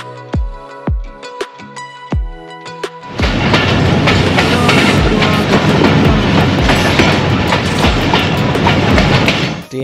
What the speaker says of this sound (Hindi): ट्रेन के बहुत ज़्यादा शोर की वजह से ऑडियो बहुत ख़राब रिकॉर्ड हो रही थी